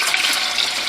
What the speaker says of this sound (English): I'm going to pour a little bit of this in this pot.